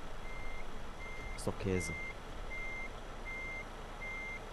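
Reversing beeps from a truck in Euro Truck Simulator 2 multiplayer, a regular electronic tone pulsing about once a second over a low engine hum, with a brief spoken remark partway through.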